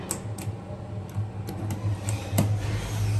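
The pulley of a Schindler 330A hydraulic elevator turns with soft, irregular ticks and clicks over a steady low mechanical hum, close by.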